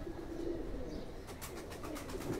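A female Ferozpuri mix-breed pigeon coos softly in low, repeated murmurs, close by and alone, over a steady faint background hum.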